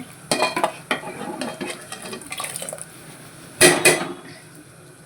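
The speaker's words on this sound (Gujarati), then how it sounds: "ફેરવી દઈશું રગડો બનીને તૈયાર થઈ ગયો છે" A spoon stirs ragda, a white pea curry, in a metal pot for Gujarati ragda bhel. Scraping, clinking strokes come in irregular bursts, close and clear, with a louder clatter near the end and no speech.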